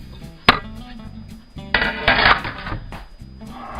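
Chopped cherry pieces dropped into a bowl of desiccated coconut, a sharp clatter followed by a louder scraping tumble against the bowl, close and alone.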